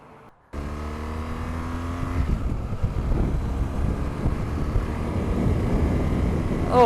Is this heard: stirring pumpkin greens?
no